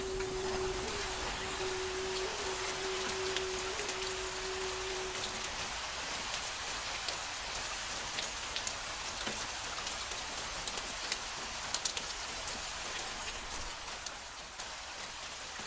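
Rain falling steadily, a dense even patter of drops on surfaces throughout, with a faint tone briefly at the start and no talk.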